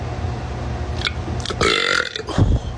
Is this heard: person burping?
yes